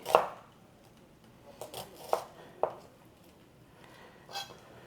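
A knife slices onions into strips on a cutting board, four or five separate crisp chops spaced irregularly against a quiet kitchen background.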